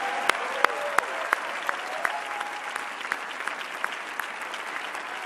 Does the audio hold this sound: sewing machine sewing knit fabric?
no